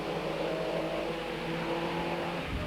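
A field of TVR Tuscan race cars accelerates hard off the start of a 1997 Tuscan Challenge race, a loud continuous roar of engines with rising tones, heard close with no talking.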